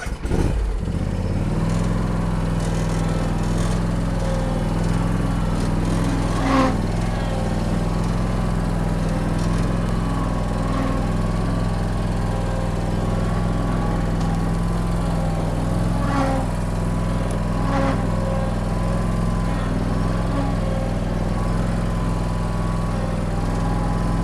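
A Bad Boy ZT Elite zero-turn mower engine starts and idles steadily and loudly, with a constant droning hum and occasional clattering, running alone without voices.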